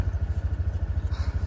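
A motorcycle engine runs with a steady, rapid low throb, close and fairly loud, over a short continuous stretch.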